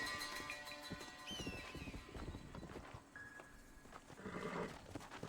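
A horse gallops in the Red Dead Redemption video game, with rapid hoof clip-clops, a whinny and in-game ambience, all faint.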